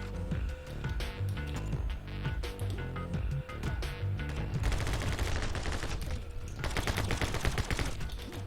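Shotgun blasts fire again and again in the video game My Friend Pedro, loud and dense over a thumping game soundtrack. The shots come in rapid clusters with almost no pause between them.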